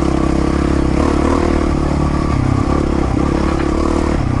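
A loaded dual sport motorcycle labours through soft beach or dune sand, its engine droning loud and close with wavering revs and scraping, clattering texture throughout.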